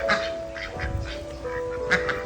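Several short duck quacks ring out close by at a buffalo dairy farm cafe in Chachoengsao, Thailand, over a steady tonal hum, with a louder burst of quacking near the end.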